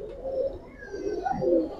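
A male dragon-eye pigeon coos in low, throaty rolling phrases, close and fairly loud, with a couple of swelling coos toward the end and no talking.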